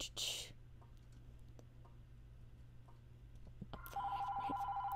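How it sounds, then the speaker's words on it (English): A telephone starts ringing late with a steady electronic trill, fairly faint, over a quiet room hum with a few soft ticks beforehand. "And the phone's ringing."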